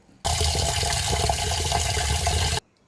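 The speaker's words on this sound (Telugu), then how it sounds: "దీనికోసం ముందుగా రైస్ని వేసుకొని కడిగి పెట్టుకోవాలి." Rice is washed with water for tomato rice: a loud, continuous rush of running water starts abruptly, holds steady for about two seconds and cuts off sharply, with no talking.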